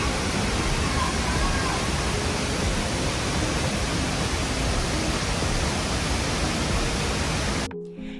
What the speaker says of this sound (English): This is the biggest waterfall and the closest I've ever get to.